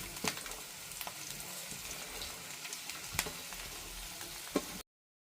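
Okra pieces with curry leaves fry in a pan, giving a soft, steady sizzle broken by occasional small pops and stirring clicks, faint and close, with no talking.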